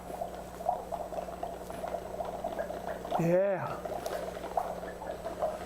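Methane gas bubbles through soapy water in a quiet series of soft gurgles and pops, with a brief spoken word and a short rising-falling tonal sweep partway through.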